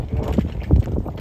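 Horse hooves walking in an arena during a dressage transition to walk, soft muffled thuds at a slow irregular pace, close and fairly loud, with some wind noise on the microphone.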